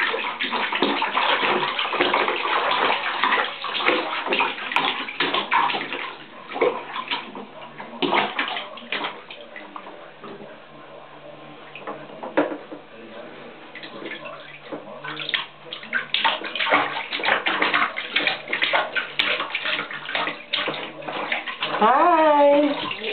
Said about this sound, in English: Kymani, what are you doing in the water? Are you swimming?